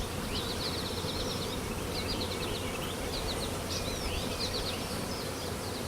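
Honeybees buzz continuously around hive frames after a swarm, making a dense, steady drone close by. Faint high chirps flicker above the hum, and no one speaks.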